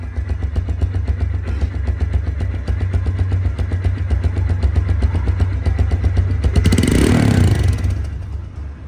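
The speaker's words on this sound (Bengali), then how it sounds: "বাইকটি এখন সাউন্ড কোয়ালিটি শোনাবো" A TVS Stryker 125cc motorcycle with about 8000 km on it idles close by with a steady, even thump, then revs briefly toward the end before settling, with no talk.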